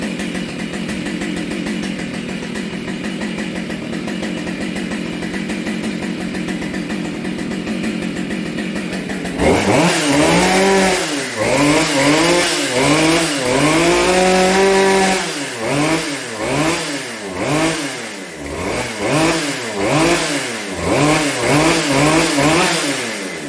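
A Husqvarna 572xp chainsaw, running too rich, idles steadily, then is throttled repeatedly, each rev rising into a loud, close, burbling whine and dropping back in quick bursts, with no voices.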